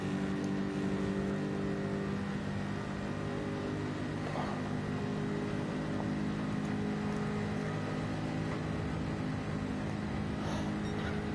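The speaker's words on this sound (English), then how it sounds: "I can hear a noisy engine behind. That's the Ferrari" Turbocharged Ferrari V6 race car in Gran Turismo 7 GT3 lobby racing, a steady droning engine roar with a constant harmonic hum that runs unbroken and fairly loud throughout, with no talking.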